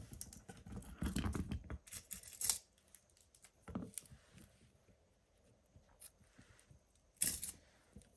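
Scissors snip through crochet yarn in a few quick close cuts and rustles, then quieter handling noises and a final sharp snip in an otherwise quiet room.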